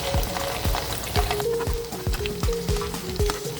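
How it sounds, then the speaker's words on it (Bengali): Lentil fritters (bora) frying in hot oil as they are turned to brown the other side, a steady close sizzle and crackle with repeated soft clinks and scrapes of a utensil. "একটা সাইড ব্রাউন হয়ে গেছে, আমি এবার অন্য পিঠটা ভেজে নেব।"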